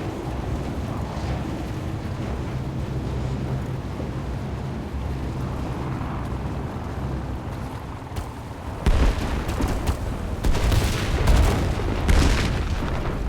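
Heavy cannon blasts boom repeatedly over a dense, rumbling din of gunfire and explosions in the video game Warface, growing louder and more intense in the final seconds.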